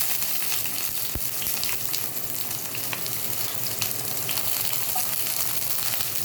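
Large-cut onion pieces for chilli chicken fry in a hot pan, a steady loud sizzle with occasional crackles and faint stirring.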